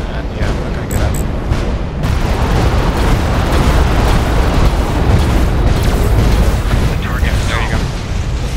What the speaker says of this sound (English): Now we're getting disabled, getting hit by missiles